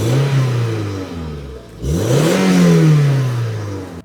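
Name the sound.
convertible sports car engine revving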